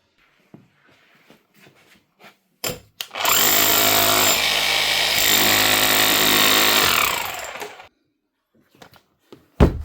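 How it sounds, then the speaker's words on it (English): An old Bosch GBH 5-40 DCE rotary hammer, roughly 20 years old and repaired, runs loud and steady for about five seconds, with a dense rattling hammer action, after scattered handling knocks and clicks before and after. "Just make sure she's actually hammering correctly here now."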